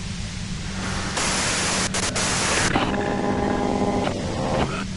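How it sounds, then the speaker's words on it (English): Radio white-noise static from the Disco Elysium video game hisses loudly and steadily, shifting in texture midway with brief crackles and faint tonal bands beneath the hiss. "you can do it through the white noise"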